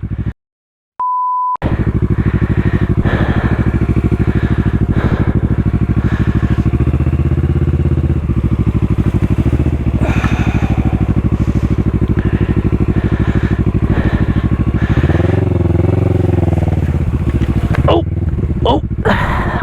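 Motorcycle on Dunlop tires roaring steadily at close range after a short beep, with a loud constant engine drone and wind buffeting; a voice talks over it.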